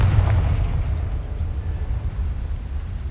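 A Confringo explosive spell goes off in Hogwarts Legacy with a deep, booming blast that rumbles and fades out slowly across a few seconds.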